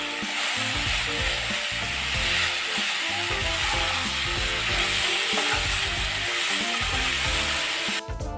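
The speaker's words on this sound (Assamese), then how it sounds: "আটাইখিনি মছলা দি কিছু সময় ভাজি থাকিলোঁ।" Ground coriander, cumin, Kitchen King masala and green chillies fry in a pan, a loud steady sizzle with scraping stirs, busy close crackle throughout and a short clatter at the end, no voices.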